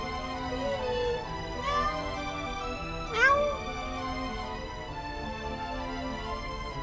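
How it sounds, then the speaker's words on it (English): A cat meows several times, drawn-out and whiny, with a louder rising cry near the middle, set against a steady background hum of game music. "I have a cat named Phoenix that I call Feeny"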